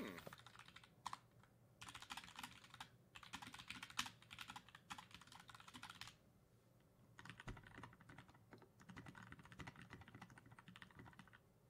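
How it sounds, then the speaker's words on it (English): Typing on a new computer keyboard, quick close clusters of key clicks in several bursts with short pauses between them, fairly quiet and with no talking. "here's my keyboard typically"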